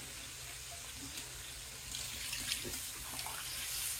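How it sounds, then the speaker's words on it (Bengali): Broth is poured into browned chicken curry, a faint, steady liquid pour that grows slightly fuller and splashier in the last couple of seconds. "এই যে এখন ঝোল দেওয়া হইতেছে, মাংস কষানো হয়ে গেছে।"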